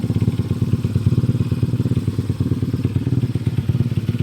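A Yamaha Mio 125 motorcycle engine converted to 246cc with a Sniper head and block idles on a test run, a loud close rapid thumping putter with a steady even beat.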